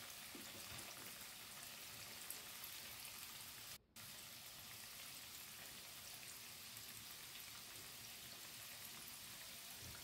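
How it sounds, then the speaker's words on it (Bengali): Palm fruit fritters (tal bada) sizzle in hot oil with a steady, dense crackle that runs unbroken for the whole stretch, apart from one brief gap. "আবার আমি ওই তেলের মধ্যে বাকি বড়াগুলো দিয়ে দিলাম।"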